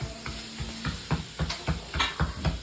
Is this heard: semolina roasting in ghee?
yes